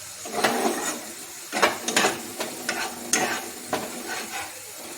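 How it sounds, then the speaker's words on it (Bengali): Spice paste for a black pomfret tel jhal sizzling in oil while a spatula stirs it in bursts, each scrape and hiss swelling and fading in an uneven rhythm, close by, with no talk. "যতক্ষণ না তেল না ছাড়ছে ততক্ষণ আমরা মশলাটাকে খুব ভালো করে কষাবো"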